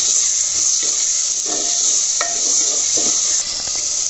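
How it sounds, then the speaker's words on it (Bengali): Onion fries in hot oil in a pan until lightly browned, making a bright, continuous sizzle with several soft stirring scrapes mixed in, close and fairly loud, with no talking. "পেঁয়াজটাকে একটু আমি ভেজে নেব, হালকা বাদামি করে ভেজে নেব"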